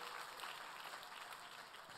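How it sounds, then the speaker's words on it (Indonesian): Audience applause fills a church during a sermon, a steady wash of clapping heard from a distance at low volume, continuous through the moment with no clear break. "tepuk tangannya lebih dahsyat lagi buat Yesus Tuhan kita"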